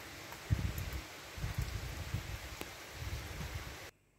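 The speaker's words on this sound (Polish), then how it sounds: "No, a za oknem pada." Steady rain falls outside a window, a soft continuous wash of patter with a few louder drips and knocks near the start, heard from indoors before cutting off abruptly at the end.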